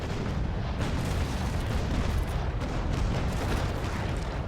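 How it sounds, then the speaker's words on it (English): Sailing-ship cannons fire a full broadside in the naval combat game Naval Action, a dense rolling barrage of booming shots blending into continuous loud rumble. "this is a beautiful broadside"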